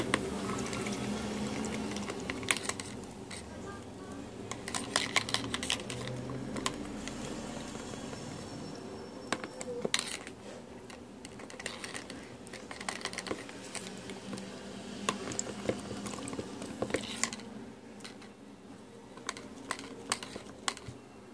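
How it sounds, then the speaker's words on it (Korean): Marbling slime being stirred and mixed by hand, giving a steady run of wet, sticky clicks and squelches that continue at a fairly even rhythm, close up and with no talking. "이렇게 달 때까지 열심히 섞어줍니다."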